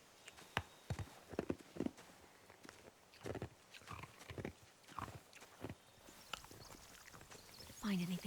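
Hooves clip-clop in scattered bursts in the video game The Walking Dead, mixed with footsteps and game sounds, while a voice talks intermittently; a brief whistle-like tone rises near the end.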